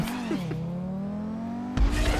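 A steady engine drone from a car in a GTA Online stunt race, pitch shifting slightly, with a brief squeal of tires near the start and a louder burst at the end.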